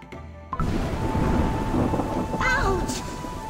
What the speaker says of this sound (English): Ouch! The raindrops!